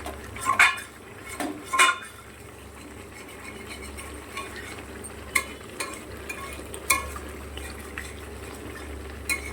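A spoon scrapes and clanks against a pot as chicken is stirred and sautéed for biryani, leaving sharp metallic knocks over a faint low simmer.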